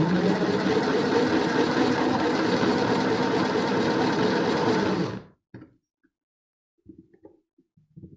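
A salad spinner turned by hand with its lid on, whirring as a steady, loud mechanical hum for about five seconds before stopping abruptly, followed by a few faint small clicks and rattles.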